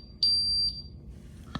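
A home security system keypad sounds its fire alarm, giving a loud steady high-pitched tone that lasts about half a second, followed by a softer echo and a faint click near the end.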